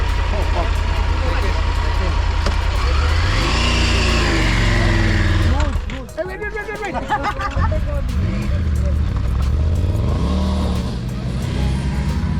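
A motorcycle engine revs hard climbing a sand dune, rising in pitch close by, with people shouting and chattering over the steady loud drone.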